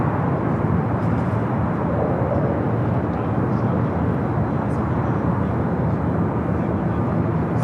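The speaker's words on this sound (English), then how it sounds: "Virgin Flight 7 coming in from London Heathrow." Virgin airliner arriving from London Heathrow at LAX, heard as a steady, moderately loud engine drone and rumble at a distance, unbroken for several seconds, with faint talk beneath.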